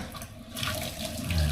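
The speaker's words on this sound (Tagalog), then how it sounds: "So ngayon, gugas natin ng pinggan." Tap water runs into a sink while plates, dishes and cooking pans are washed, a steady close rushing stream that swells slightly louder toward the end, with no talking.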